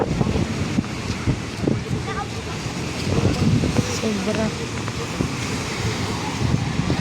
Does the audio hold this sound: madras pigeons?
no